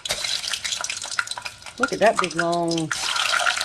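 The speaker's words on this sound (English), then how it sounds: "When I hear that sizzle, I know it's ready for more." Sweet potato fries sizzle and crackle steadily in hot oil, a close, bright hiss that continues while a person talks over it.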